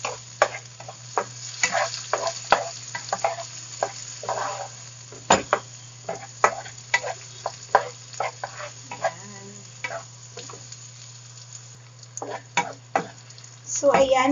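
Six hotdogs frying and being stirred in a pan, soft sizzling under a steady hum with irregular scraping and tapping of the utensil, close and fairly quiet, no talking.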